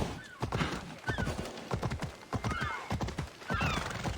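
A horse in Assassin's Creed Odyssey galloping with rapid rhythmic hoofbeats, close and loud, while high whinnying neighs rise over the gallop near the start and again at the end.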